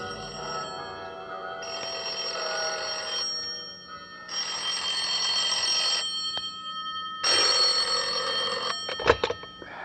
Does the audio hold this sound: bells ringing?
yes